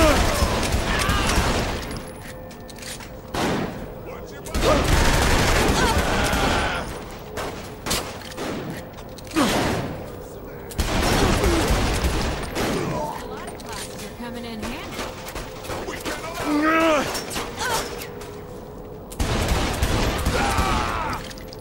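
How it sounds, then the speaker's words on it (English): Dense bursts of gunfire from a Saints Row 3 game fight, with loud rapid volleys and booming shots that come in waves, and character voices talking over the shooting throughout. "Shooting them probably doesn't help change their minds."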